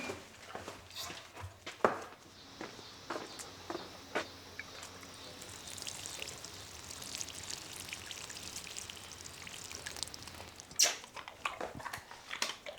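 Dogs being looked after during a week of dog sitting, with scattered sharp barks and yelps, nearby and moderately loud, over a steady rushing wash like rain or running water.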